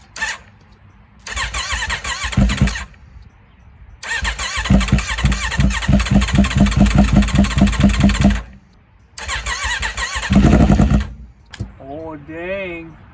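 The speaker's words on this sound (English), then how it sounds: "This is gonna fire up right now." A 2021 Aprilia RSV4 sportbike being rebuilt after a wreck cranks and catches in loud bursts close by, with a rapid stuttering rhythm that stops, restarts, then sputters out.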